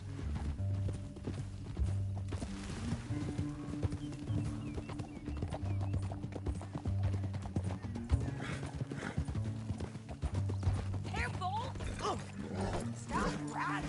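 Horse hooves clopping steadily during a ride in Red Dead Redemption 2, a continuous close rhythmic gait with occasional whinnies, under a low droning score and brief voices.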